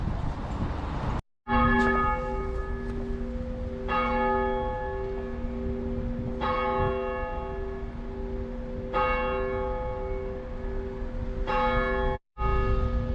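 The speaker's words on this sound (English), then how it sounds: "So this is us at the second church now, as you can hear it chiming." Church bell chiming from a second church set on a small mound along a high street, heard close and loud with repeated struck tones every few seconds and long ringing overtones, broken by two brief gaps.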